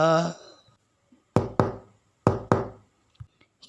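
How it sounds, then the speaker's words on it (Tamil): Two quick double knocks on a door, loud and close, separated by a short pause, with a voice briefly heard at the start. "பேய் கதவையும் தட்டுது"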